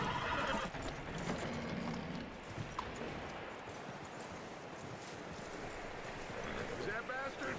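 A horse whinnies and hooves clip-clop in the video game Red Dead Redemption 2, over a steady background of wind and ambient noise, fairly faint and distant.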